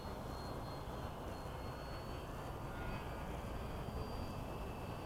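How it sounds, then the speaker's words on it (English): A Hawk jet aircraft taxiing back along the airfield after a flight, its engine a steady, faint broadband whine and rumble that holds level throughout with no voices. "There we go. Taxiing back. Flaps up."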